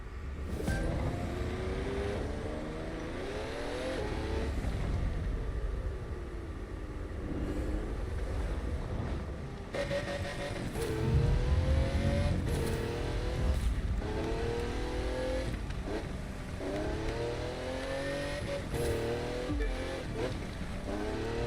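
Race cars in a video game race, engines droning and revving continuously with rising and falling pitch as they shift gears, loud and steady throughout with occasional sharper knocks.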